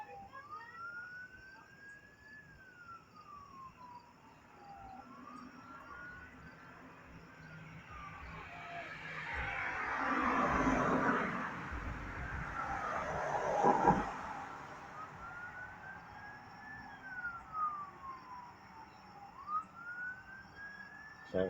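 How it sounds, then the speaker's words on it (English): An emergency vehicle siren wails in the distance during a thunderstorm evening, rising and falling slowly, swelling as it passes along with traffic rumble, then fading and returning faintly; voices murmur now and then. "I hear siren."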